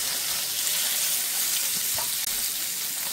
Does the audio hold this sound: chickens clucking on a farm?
no